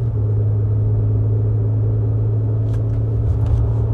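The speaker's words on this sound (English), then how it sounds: "you might hear it a bit much because of my exhaust that has a leak" A BMW E28/E32/E34 with a ZF 4HP22 automatic and a leaking exhaust rumbles steadily at a low, even drone, heard close and continuous with a few faint light ticks near the end.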